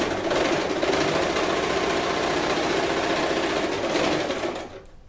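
An Elgin Genius sewing machine stitches continuously at a steady fast whir with a rhythmic needle chatter, loud and close, running for about five seconds before slowing and stopping.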